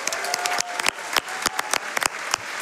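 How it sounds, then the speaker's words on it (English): A studio audience claps for a couple of seconds at a speedrun charity marathon, a dense burst of many hands applauding at moderate volume with no talk over it. "let's give another round of applause for Twitch chat."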